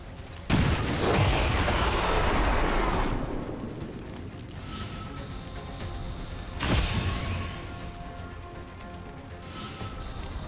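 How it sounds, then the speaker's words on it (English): Grenade explosions in the video game BattleTech, two booming blasts with a loud one early followed by a long rumbling decay and a second smaller burst later, set over a faint steady game background. "Grenade out! Throwing grenade!"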